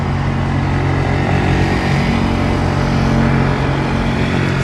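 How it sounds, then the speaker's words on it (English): A vehicle engine runs steadily nearby, producing a loud, continuous low rumble with a constant idle drone and no pauses. "Someone's got their engine on"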